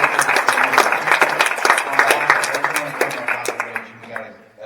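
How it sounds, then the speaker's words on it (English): A round of applause for the W.O.R.D. team at a conservation and recreation gathering: a modest crowd claps in crisp, scattered bursts, with voices murmuring underneath, tapering off near the end. "Let's give them one more round of applause."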